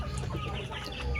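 Backyard chickens clucking steadily, several birds close by in a continuous soft chorus over a constant low hum, with no talk.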